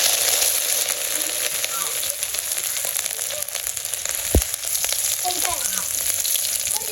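Bay leaves and cumin seeds sizzling in hot oil in a pan as ginger goes in, a close, steady frying hiss with a soft clink partway through.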